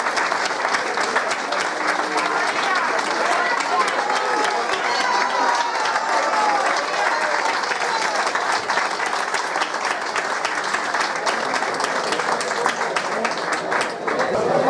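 Sustained audience applause at a village tribute to elderly residents over 90 in La Galga, many hands clapping steadily and evenly for the whole stretch, with cheering and voices mixed in.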